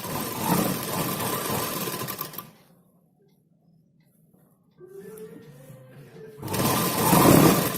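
A sewing machine runs in bursts while stitching the folded lining edge of a blouse, a close mechanical whir that stops for a quiet pause and then restarts, slowing and speeding up.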